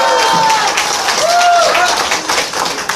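A crowd at a Korean political campaign rally in Gangseo, Seoul, claps and cheers to welcome a pastor, loud and close, with a few whistles or shouts rising above the clapping.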